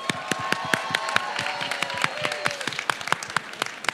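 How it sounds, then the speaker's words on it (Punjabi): An audience at the BritAsia TV Punjabi Film Awards 2019 ceremony claps in a sparse, rhythmic burst of sharp hand claps, with a faint tonal background underneath. "ਤਾੜੀ ਇੱਕ ਵਾਰੀ ਖੁੱਲ੍ਹ ਕੇ ਜ਼ਰਾ"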